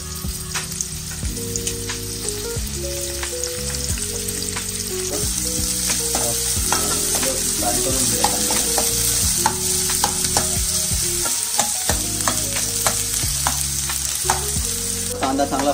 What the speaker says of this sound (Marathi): कांदा चांगला फ्राय होत आलेला आहे.